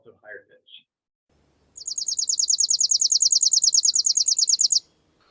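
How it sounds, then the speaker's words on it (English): A chipping sparrow sings a fast, dry, even trill of rapid identical chips lasting about three seconds, clear and fairly close, after a few faint brief notes from other sounds. "That's chipping sparrow."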